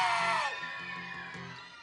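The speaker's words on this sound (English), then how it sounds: "Let me hear you scream for the bison" An outdoor crowd at a live fireworks and fanfare show screams and whoops loudly in one big burst that fades and thins over a couple of seconds.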